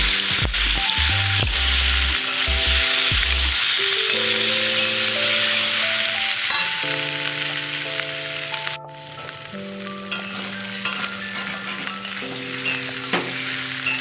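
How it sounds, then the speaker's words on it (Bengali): Small potatoes frying in oil with a pinch of turmeric, giving a steady close sizzle with occasional stirring clicks. Background music plays throughout. "এবার আলুটা আমি একটু ভেজে নেব।"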